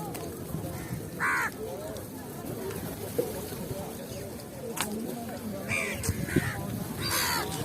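A crowd of crows at the Kalitola crow sanctuary gives scattered caws in the late afternoon, some close and some further off, over steady outdoor background noise and murmuring voices.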